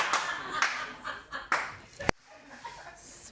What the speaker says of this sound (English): Oh, I like the clap.